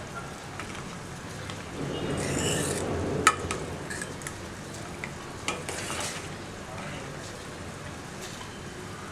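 Chopped coriander leaves are stirred gently into boiling crab soup (Nandu Rasam), giving a steady bubbling, sizzling wash with soft scraping swells and a few faint clicks of the spoon.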